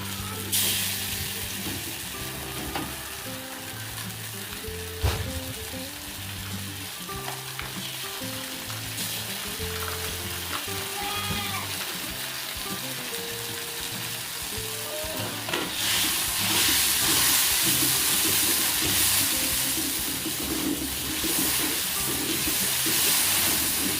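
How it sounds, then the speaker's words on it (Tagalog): Tomato sauce sautéing in a hot pan for pork caldereta: a loud, steady sizzle and crackle up close, with stirring scrapes and bubbling that swell louder near the end, and no voices. "Gisa natin yung tomato sauce."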